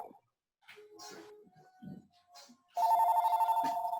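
A telephone rings loudly and continuously near the end after quiet moments of faint speech and small sounds, a close, steady electronic trill.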